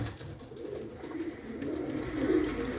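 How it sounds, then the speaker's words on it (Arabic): Zawajel pigeons, a green-tinged breed kept in Mosul, cooing softly in low repeated rolling calls, close and alone without talk. "هذني زواجل احنا نسميه بالموصل زواجل خضر"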